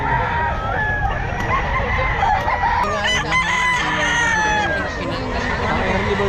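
A fighting rooster crows loudly and close by, with clucking fowl around it and people chatting in the background.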